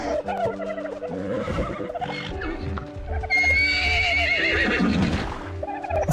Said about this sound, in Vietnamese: Wow, con ngựa này đẹp thế.